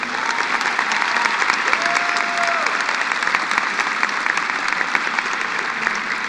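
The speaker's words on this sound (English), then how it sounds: "A nice round of applause for Clint ISD." A round of applause at the Mountain View High School 2018 graduation ceremony, a large crowd clapping loudly and continuously for the whole stretch, with faint cheering mixed in.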